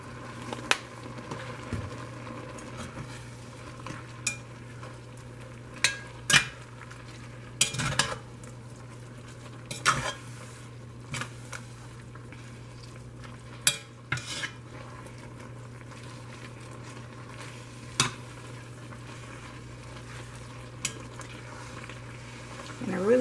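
A metal spoon stirs noodles in a cooking pot, giving sparse, faint clinks and scrapes against the pot over a low steady background hum.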